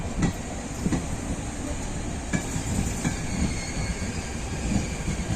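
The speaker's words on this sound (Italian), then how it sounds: "è in arrivo al binario 8." A regional Trenitalia train rolls in at a Venezia Mestre platform with a steady rumble, clattering wheels and faint squeals, close by and continuous, with no voices over it.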